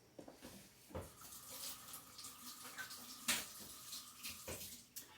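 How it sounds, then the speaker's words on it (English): Hands are washed under a running kitchen tap, with steady water flow and splashing and a few clunks and taps, fairly quiet and with no talk. "Feel free to wash your hands if you need to wash your hands."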